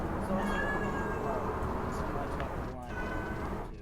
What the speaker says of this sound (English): I hear cats meowing.